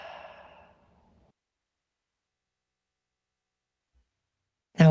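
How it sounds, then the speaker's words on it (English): One slow exhale through the mouth, a soft breathy rush fading over about a second, followed by silence and a sharp breath at the very end. "Exhale through your mouth."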